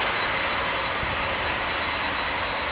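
A Jet2 aircraft's jet engine under test at Manchester Airport gives a loud, steady roar with a high whine running through it, unbroken throughout.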